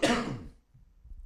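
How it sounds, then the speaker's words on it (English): A single harsh cough or throat-clear from a podcast host discussing college football and NFL betting, loud and close at the start and then fading quickly into quiet room tone. "y'all got to bear with me again with the cough."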